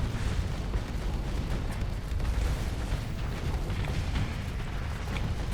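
A spaceship in Starsector being bumped and battered by a space station, heard as a dense, continuous roar of booming impacts and explosive rumbles in combat, loud and sustained throughout with no talk.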